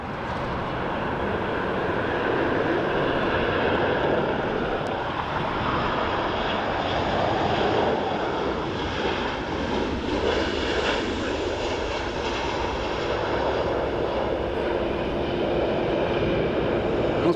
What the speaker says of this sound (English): the engines when they're spooling up make kind of a sound like a Wookiee